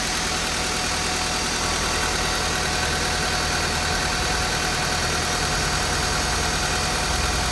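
Steady, even idle of a 2000–2005 Honda Civic engine, a continuous close hum and rattle with no revving and no voices.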